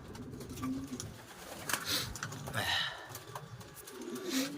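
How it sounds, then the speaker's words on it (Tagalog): Pigeons coo softly in a loft, several low, rolling calls scattered across the moment under faint background noise and occasional light clicks, with no voices. "At magpapakain na nga tayo ng ibon natin."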